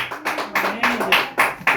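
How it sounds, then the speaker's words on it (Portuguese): A church congregation claps in welcome for the pastor, a handful of sharp, uneven bursts of hand claps close by, with a voice briefly mixed in. "Vamos receber o servo do Senhor Jesus com as palmas bem alegres."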